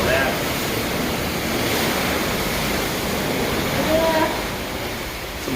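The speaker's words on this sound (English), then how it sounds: "Some of the waves are coming up when I'm not looking." Sea waves splashing alongside a Carnival Panorama cruise ship, a constant loud rushing wash with wind noise buffeting the microphone throughout, steady and close.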